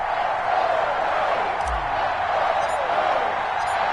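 Stadium crowd in an EA Sports NFL video game, Las Vegas Raiders against New York Giants, a steady broad roar of cheering that holds loud and unbroken throughout, with a brief low thump partway through.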